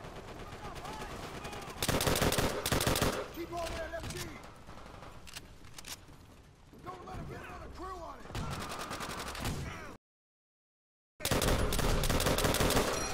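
Rapid bursts of gunfire from Call of Duty: World at War co-op campaign, loud machine-gun volleys in stretches with shouted, excited talk between players over and between the shots.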